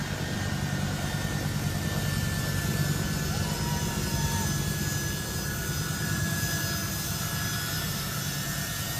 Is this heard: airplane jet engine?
yes